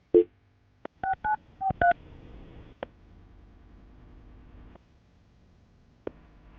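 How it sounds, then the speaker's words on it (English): An American phone number is keyed in as a quick run of separate touch-tone beeps, loud and close, followed by a few clicks and a quiet line before the call connects. "All right, Jackie, you ready to call him?"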